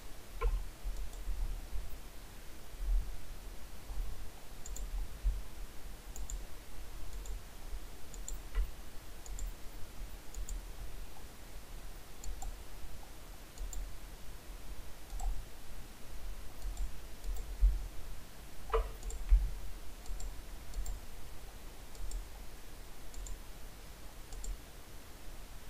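A computer mouse gives a few faint, sparse clicks over a quiet background hiss, with one slightly louder click partway through.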